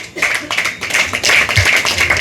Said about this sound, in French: nous avons applaudi à l'avance